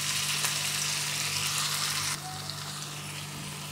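Onion, cashew and green chili paste for a Mughlai mutton curry fries in a pan with a steady, loud, close sizzle that drops slightly in intensity partway through.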